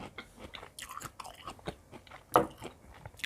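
Close, crisp chewing and crunching of long-podded candied pickled tamarind, with irregular bites and wet mastication sounds, one louder crunch standing out midway.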